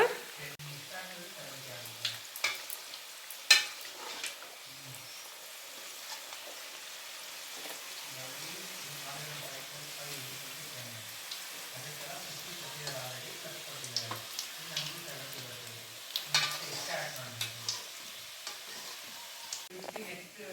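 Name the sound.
coconut-filled karjikai pastries deep-frying in oil, being turned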